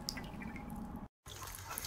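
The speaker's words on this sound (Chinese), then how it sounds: "哇，水龙头又漏水了。" A leaking water tap in the video game Love Is All Around drips faintly in a quiet room, with soft isolated plinks over low background hiss and a brief cut to silence midway.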